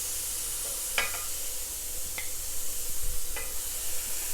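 Chillies, shallots and garlic roast in a pan with a steady, close sizzle and hiss, broken by a few sharp stirring scrapes.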